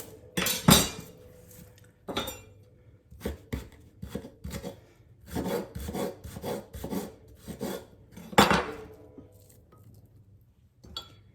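Chunky homemade guacamole of hard avocado and onion is stirred in a bowl, with scraping and clinking of a utensil against the dish in irregular bursts and short pauses, close and fairly quiet, with no speech.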